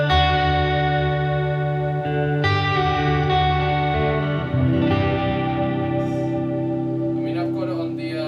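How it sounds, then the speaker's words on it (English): Electric guitar played clean through an RV5 modulated reverb with slight delay, sustained chords ringing with a shimmering, washy tail that stays loud and continuous as one chord changes to another. "I've got it on the modulated reverb. So it's like a little shimmer in the background, nice."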